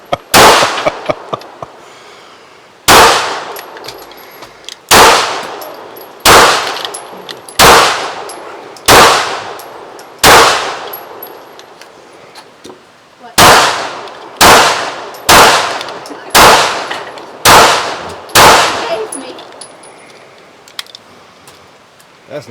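Gunshots strike steel targets that ring out with sharp metallic clangs, about fifteen loud, evenly spaced impacts in two bursts, each followed by a short ringing decay.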